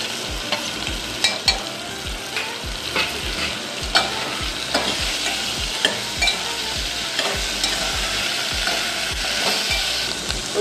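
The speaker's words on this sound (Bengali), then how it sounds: "ওইগুলো প্রায় কষানো হয়ে গেছে।" A fig curry with ginger, green chilli, chopped tomato and coriander sizzles in a pan as a spatula stirs it, giving a steady frying hiss broken by regular, close scraping knocks against the pan.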